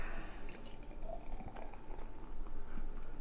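Strike Big Wall Stout, a dark beer, is poured into a glass, producing soft liquid splashing and trickling up close at low volume, with no talking.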